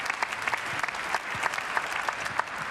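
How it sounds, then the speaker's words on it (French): An audience at a Christian gathering claps steadily and warmly for a couple of seconds, a dense, even applause with no voices rising above it. "On peut l'applaudir très très fort."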